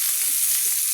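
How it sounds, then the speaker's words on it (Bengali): Cauliflower florets seasoned with salt and turmeric fry in hot oil for a cauliflower and prawn curry, a loud, dense, continuous sizzle with faint stirring movements underneath. "ফুলকপিগুলোকে একটু হালকা করে আমি ভেজে নেব"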